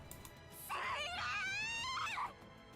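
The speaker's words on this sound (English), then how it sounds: "That sounds like a great scream" Character scream in Goddess of Victory: Nikke: a single drawn-out, wavering high-pitched scream lasting about a second and a half, rising in over faint background sound and fading out.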